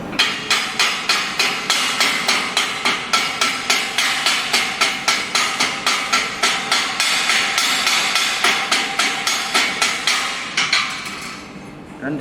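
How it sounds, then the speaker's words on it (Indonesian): A chipping hammer knocks slag off a fresh fillet weld joint in a welding workshop, striking in a fast, steady series of sharp metallic taps that continue almost unbroken and then thin out near the end. "kita membersihkan seleknya dengan bantuan chipping hammer"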